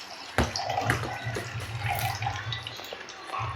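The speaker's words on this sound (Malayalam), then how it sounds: "പുളിവെള്ളം ഒഴിക്കുന്നത്," Tamarind water poured into a fish curry splashes in a soft, continuous trickle after a sharp start, fairly faint and close.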